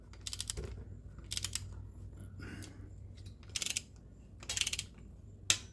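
Cylinder head bolts on an L48 small block Chevy engine are torqued with a ratcheting wrench. Quiet, quick clicking bursts recur roughly once a second over a low background hum.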